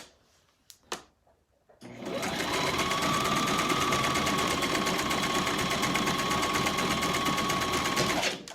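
A sewing machine stitches a cap in a long, steady, close run at even speed, starting after a few brief soft knocks of handling and stopping near the end.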